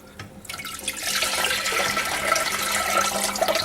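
Water rushes steadily through the drain of a GBM 3800 after a short rattling start. The flow is close and constant with a hissing, gurgling body.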